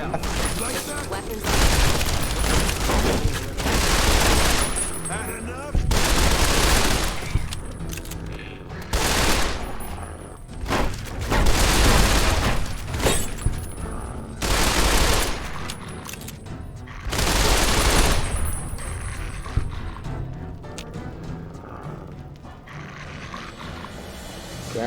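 Repeated bursts of gunfire in Fallout: New Vegas, loud and close, coming in volleys every few seconds with mechanical clicks of the weapon between them, and a voice talking over part of it.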